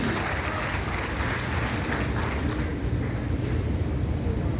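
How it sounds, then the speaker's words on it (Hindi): A crowd claps loudly and steadily after being called on to applaud, a thick unbroken wash of hands that carries through the whole stretch without letting up. "जोरदार तालियां उनके लिए जो कौन बोले लाइफ के लिए"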